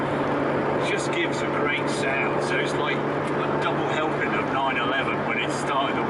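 Ferrari Testarossa flat-12 engine in an old car, a steady droning hum heard from the driver's seat with wind and road noise, running continuously under a voice speaking over it.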